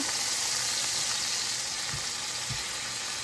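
Pear pieces sizzle steadily in a hot pan, turned down to caramelize alongside pork chops, giving a constant close hiss with a couple of soft low thumps.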